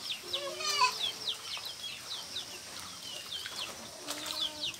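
Farm chickens cluck and squawk in rapid, overlapping bursts on a rainy-season homestead, fairly close, with a soft wet background and no talk.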